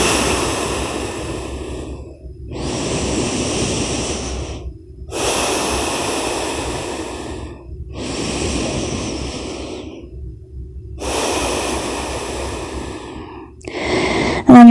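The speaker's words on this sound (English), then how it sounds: "Make some nice cleansing, deep inhales and exhales." Five long, deep breaths during a yoga child's pose, each a slow airy inhale or exhale lasting around two seconds with short pauses between, close and steady, with no talking.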